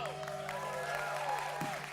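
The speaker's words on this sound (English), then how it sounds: "Please give a hearty Springhouse applause for Robert Major" Audience at an evening showcase claps in a short, moderate burst of applause while voices carry through the crowd noise.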